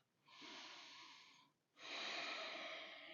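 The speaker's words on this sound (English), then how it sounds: "2 more breaths" Two long, airy breaths during a yoga leg workout, one drawn in and then a second slightly louder one after a short pause, close to the microphone and faint overall.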